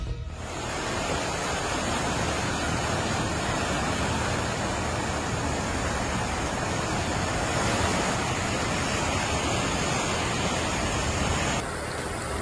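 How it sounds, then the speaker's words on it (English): Floodwater rushing over the banks of an overflowing creek makes a dense, continuous roar, loud and steady without a break and with no voices over it. "It's overflowing the creek and coming in."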